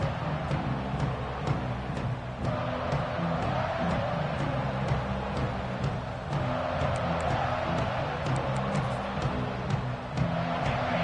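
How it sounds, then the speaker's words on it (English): A fired-up home football crowd roars at the opening kickoff of Georgia Tech vs Georgia, a dense, steady wall of stadium noise with scattered shouts throughout. "this home crowd is fired up and ready to make a difference today"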